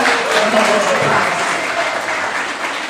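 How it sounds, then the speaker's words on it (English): Audience at a yoga studio's 20th anniversary celebration in San Jose applauding an award winner, loud dense clapping that goes on steadily the whole time, with faint crowd voices mixed in. "Please clap for this man."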